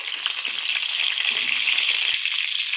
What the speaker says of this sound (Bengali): একটা তেজপাতা, একটা শুকনো লঙ্কা,